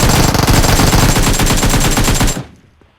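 A submachine gun in PUBG Mobile fires one loud, rapid burst lasting a little over two seconds, then cuts off abruptly into near silence.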